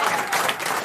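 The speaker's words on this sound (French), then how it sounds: "applaudissements" A crowd applauds steadily, a dense wash of clapping that stays loud and even throughout.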